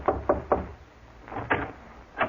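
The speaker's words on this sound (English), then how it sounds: "See who's at the door, James" Knocking on a door as a radio drama sound effect: two clusters of three crisp knocks, close and distinct, separated by a short pause, with no voices.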